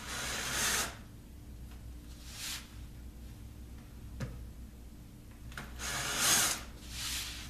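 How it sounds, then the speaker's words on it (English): Power drill boring into wood while attaching a shuffleboard floor, heard as three short whirring bursts separated by quiet pauses, fairly soft and close. "I'm gonna just drill to the depth"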